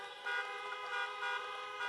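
Car horns at an outdoor drive-in presidential campaign rally in Iowa, several honking together in a sustained, layered blare with slight swells, heard from a moderate distance.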